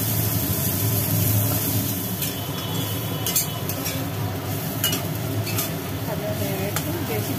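A bitter gourd stir-fry cooks in a pan in a home kitchen with little oil, giving a continuous soft sizzle and stirring noise that stays at an even level through the whole stretch, with no clear talk over it.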